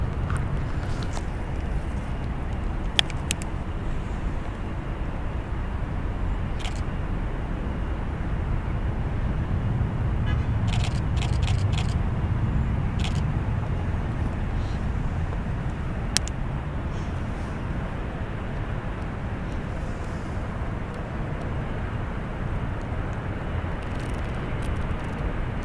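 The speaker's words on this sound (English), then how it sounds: "Taking the runway and departing, United Airlines Flight 1705 going to Houston." A United Airlines Boeing 787-9 Dreamliner departs San Francisco International Airport as a steady, broad jet roar that holds at a constant level throughout, heard from a distance with no voices over it.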